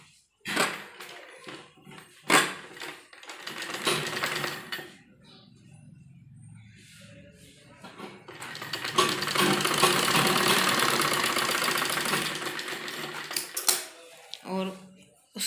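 A sewing machine stitches a strip of fabric onto a girl's kurti in short bursts of rapid mechanical whirring, the longest run lasting several seconds, separated by pauses and handling clicks.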